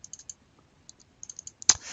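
Sharp, light mouse clicks in a portfolio risk-analysis software interface, several quick irregular taps in small groups, close and quiet, ending with a louder click and brief rustle.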